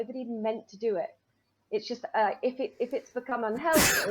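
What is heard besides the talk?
sneeze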